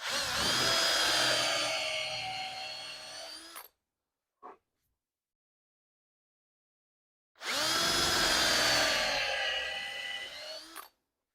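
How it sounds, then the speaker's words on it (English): A power drill pre-drills screw holes into the wood of an aquarium stand, with two loud, close whining bursts of a few seconds each separated by near silence and a brief click. "Now I'm just gonna pre-drill a couple holes, just to have the screws embedded in a little bit or inset."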